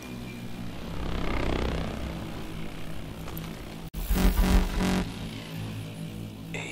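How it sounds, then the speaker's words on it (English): A helicopter in the Call of Duty Advanced Warfare bio lab mission flies off, its rotor and engine hum rising then easing away, followed by a sudden louder burst of rumbling noise. "Chopper's moving off."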